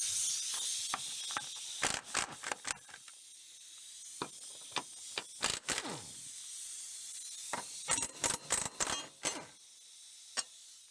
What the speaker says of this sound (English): we need a 19mm to get this nut off and these two bolts